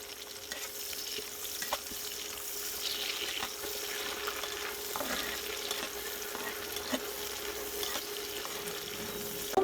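Onion, garlic and green chilies fry in oil with a dense, steady sizzle and crackle, close and even in loudness, with occasional stirring clicks and no voices.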